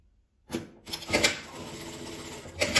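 A sewing machine stitches patterned fabric scraps together right sides facing into one long strip, with short reverse stitches at each end; the mechanical whir starts and stops in close bursts, up close, with no talking.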